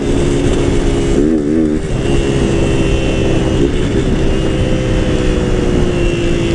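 A Honda Titan 160 motorcycle running an open exhaust with no filter holds a loud, steady rev close by, with a quick wavering blip early on and no talking.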